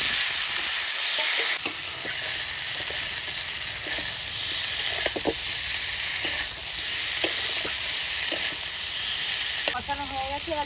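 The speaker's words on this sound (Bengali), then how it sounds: "এবার আমি সব মশলা দিয়ে ভেজে নেব।" Fried prawns sizzle steadily in a pan with spices while a utensil scrapes and stirs in scattered knocks, a continuous loud hiss of frying throughout.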